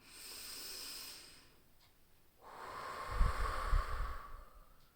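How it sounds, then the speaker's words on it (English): A deep breath drawn in slowly through the nose, a soft close airy hiss rising after a quieter exhale, with no talking. "let's take a deep breath in and get started"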